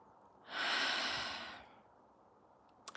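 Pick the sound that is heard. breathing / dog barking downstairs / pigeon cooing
breathing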